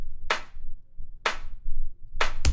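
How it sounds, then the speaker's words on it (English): First layer of an electronic clap sample for a tech house track: three sharp, bright clap hits spaced about a second apart, each with a short noisy tail, the last followed by a quick extra hit. "So there's 2 layers for the claps."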